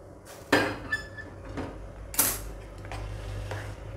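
A pressure cooker lid is set on and closed after hot water is poured in for wheat kheer, giving several close metallic clanks and scrapes spaced across a few seconds.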